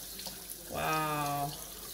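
Tap water runs over fresh broccoli during washing, a steady close hiss that swells for under a second in the middle against a quiet sink background.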